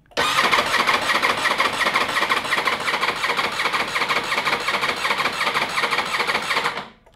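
A Ducati Desmosedici RR motorcycle under rebuild cranks continuously in a loud, steady, rapid whirring drone that stops abruptly near the end, with no voices.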